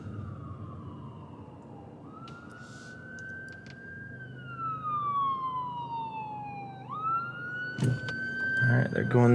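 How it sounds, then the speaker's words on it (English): An ambulance siren wails past at night, its rising and falling tone sliding in pitch as the vehicle draws near and then moves away, over a quiet car interior. "we've got an ambulance coming through"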